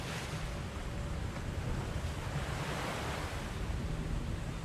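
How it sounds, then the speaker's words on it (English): Stormy sea in the Secret Doctrine video game: steady roaring surf and gusting wind fill the whole stretch, a dense, continuous wash of waves with no talk over it. "Oh, it suddenly got stormy."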